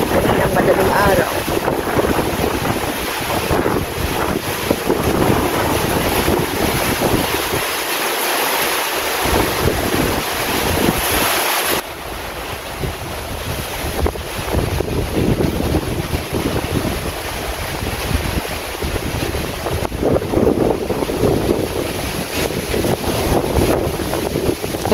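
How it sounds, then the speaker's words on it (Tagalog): Strong gusting wind roars steadily during a night storm just before rain, with broadband rushing noise buffeting the microphone throughout, dipping briefly midway before surging again. "sobrang malakas na po yung hangin"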